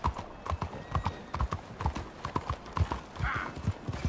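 Horse hooves clip-clop in Red Dead Redemption II, with a steady, rhythmic walking gait of crisp hoofbeats at moderate volume that continues throughout.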